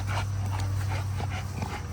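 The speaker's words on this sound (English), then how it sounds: "The Cane Corso." A Cane Corso close by gives soft whimpering, panting and small yipping noises over a steady low background hum, continuous for a couple of seconds.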